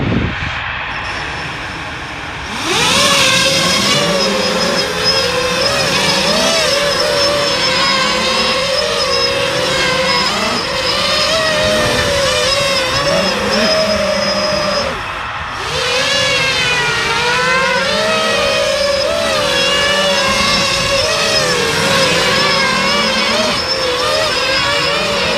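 Cinelifter drone hovering under power from only its top motors while carrying a 2 kg payload, a loud steady multi-rotor whine with shifting pitch that runs continuously after a brief quieter start, dipping once midway.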